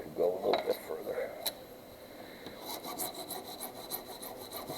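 A metal file rasps along the edge of a drypoint printmaking plate to bevel it, starting with a burst of close scraping strokes and continuing with a rapid run of short rhythmic rasps later on.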